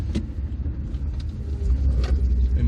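Interior rumble of a 1978 Princess 2 2200 HLS on the move, a low, steady road and engine drone with occasional light knocks and no talking.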